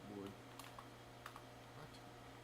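Quiet keystrokes on a computer keyboard as a password is typed, a few soft clicks over a low steady hum in a workshop setting.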